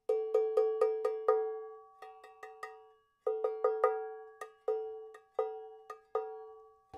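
ELH mid-tone cowbell tuned to A, struck with a mid-tone beater in quick bursts of repeated hits, each a bright metallic clank with a short ringing decay, close and clear with no voices.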